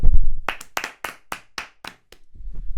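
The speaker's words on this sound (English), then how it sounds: "I think the round of applause goes to Russell Martin, the manager." Podcast hosts clap a brief round of applause in a studio, about eight close, sharp claps in an uneven rhythm with short gaps between them.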